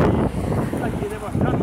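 Strong wind buffets the microphone on a bridge over the São Francisco river, a loud low rumbling roar under a man's speech throughout.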